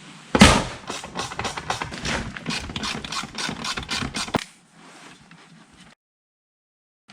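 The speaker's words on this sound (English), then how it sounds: "I'm gonna tighten it up here and then torque it here." A ratchet wrench tightens and torques the studs on a Ford F150 seat airbag: a fast, close run of rhythmic clicks for about four seconds after a sharp first knock, then near silence.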